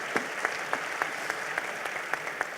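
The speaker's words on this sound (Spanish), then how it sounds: "Un aplauso para él también." Audience applause at a civic debate event on moving from a captured state to a democratic one, a steady wash of clapping with no talk over it.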